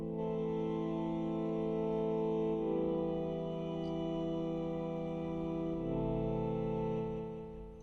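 A sustained synth pad from the free Odin2 synthesiser plays dry with no reverb, holding layered chords that shift twice over about eight seconds before fading.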